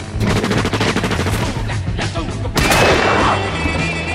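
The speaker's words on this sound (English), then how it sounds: "All the shooting." Dense, loud rapid gunfire crackles through a film action scene for about two and a half seconds. A heavier burst follows, ringing out and fading into a reverberant tail.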